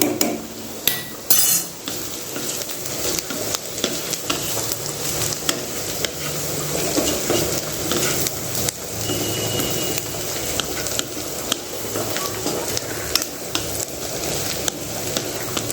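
Onions frying and sizzling in a pan turning reddish, with a steady crackling hiss, occasional utensil clinks and stirring scrapes, while rice cooks alongside on the same stove.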